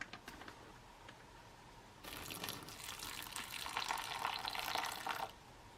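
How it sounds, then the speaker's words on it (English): Water runs into a 1981 MRE pouch of dehydrated potatoes with pork, a steady close pour lasting about three seconds before it stops abruptly, after a few faint clicks and rustles. "We'll add about 5 ounces of water."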